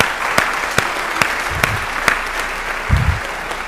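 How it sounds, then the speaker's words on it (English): Sustained applause from an audience at a high school senior awards program, dense and fairly loud, with a few sharper claps and low thumps standing out. "Let's give them a round of applause."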